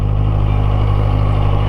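A QJmotor Race 800 motorcycle idles in first gear, its engine giving a smooth, steady low rumble, loud and close throughout.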